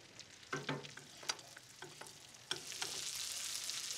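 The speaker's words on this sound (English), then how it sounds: "So you get that nice sear on the outside" Halibut fillet searing in a hot pan, a soft steady sizzle that swells into a louder, brighter hiss in the second half, punctuated by several sharp clinks and scrapes of a utensil against the pan.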